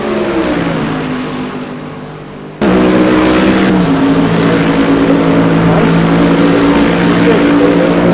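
Race cars in GTR2 at Monza during a 12-hour race roar down the main straight, a loud close engine drone with layered harmonics that surges after a sudden cut, sustained and alone without talk.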